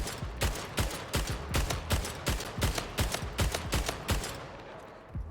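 Rapid, evenly paced Splitgate gunfire from a carbine and battle rifle, about a dozen sharp, loud shots in steady succession with a brief tail as the firing stops.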